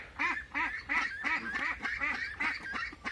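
Young ducks, roughly one to three months old, giving a run of loud, close, raspy quacks in quick repeated bursts, several birds overlapping with barely a pause between calls.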